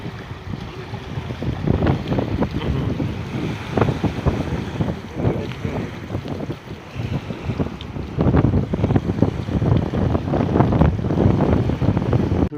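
A deep-sea fishing trawler runs on the Bay of Bengal off Dublar Char in the Sundarbans, its low engine rumble heard close, rough and gusty with strong wind buffeting and sea noise throughout.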